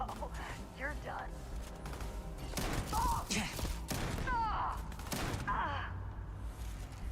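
Shotgun blasts and thuds from the video game Starfield pop amid busy combat noise, with several sharp hits spread across the stretch, and people can be heard talking over the action.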